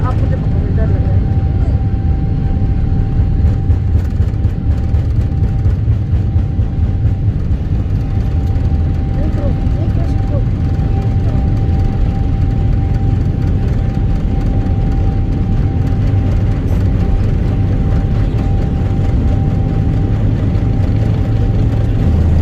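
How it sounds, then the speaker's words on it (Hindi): Steady, loud jet airliner cabin roar during the climb after takeoff on a flight out of Madina, a constant low rumble with a faint tonal whine running unbroken throughout. "देखें कैसे ज़मीन छोड़ने के बाद भी जहाज़ आवाज़ें कर रहा था।"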